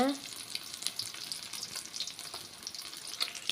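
Egg omelette with fermented amanita mushroom frying in a pan, a steady, moderately quiet sizzle of crackling hiss running throughout with small pops, no voices.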